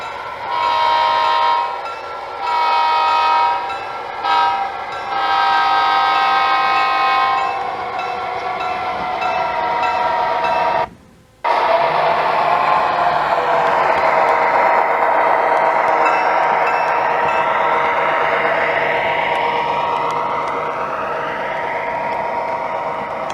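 An Amtrak model train runs on a model railroad layout, with a steady horn blast in repeated bursts that then holds on long under a continuous rolling rumble, close and loud, briefly cut out partway.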